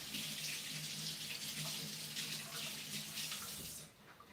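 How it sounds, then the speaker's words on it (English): Tap water runs steadily while coconut oil is rinsed off fingers at a kitchen sink, a close, continuous hiss that stops abruptly near the end. "Rinse coconut oil off my fingers."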